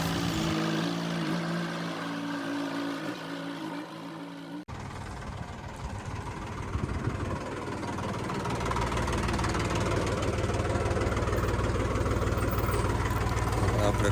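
A Gromax Hindustan tractor engine runs steadily and loudly throughout, a continuous low mechanical drone from a field being ploughed, with a brief break near five seconds before the engine noise swells again.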